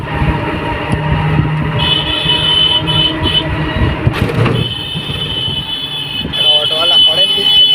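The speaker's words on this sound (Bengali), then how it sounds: "অটোওয়ালা হরেন দিচ্ছে" An auto-rickshaw crossing a long river bridge sounds its horn in sustained tonal blasts amid loud road and engine noise, with a second short burst of honking near the end.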